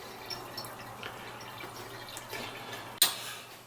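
Water dripping slowly through a water filter, a faint steady trickle with soft drips and one sharp splash-like tap near the end, quiet and close.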